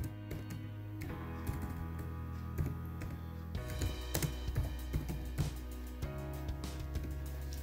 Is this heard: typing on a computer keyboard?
yes